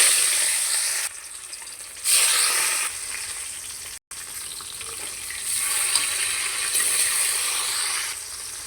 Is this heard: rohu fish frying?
yes